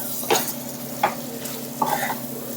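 Chicken gundakayi gojju masala sizzles steadily in a pan, with three distinct stirring scrapes punctuating the close, continuous frying.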